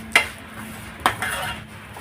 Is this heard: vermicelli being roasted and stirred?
yes